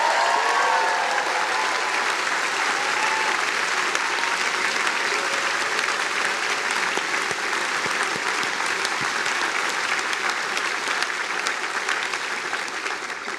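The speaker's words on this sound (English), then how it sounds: "give a round of applause to your parents, your friends, your siblings, everyone who's here" Sustained applause from a large audience at a Harvard commencement speech, dense and steady, with a few faint voices mixed in, continuing evenly throughout.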